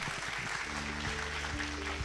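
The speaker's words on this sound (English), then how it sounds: "Let's give big round of applause again, ladies and gentlemen, for the support for Garena Indonesia" Conference audience at a game developer business event in Indonesia applauds in a soft, distant wash of clapping, with a low steady hum running underneath.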